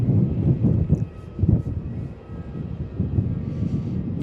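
A Philippine Airlines Airbus A330 taxis at Melbourne Airport, making a low, steady engine rumble that swells and fades slightly, heard from a distance.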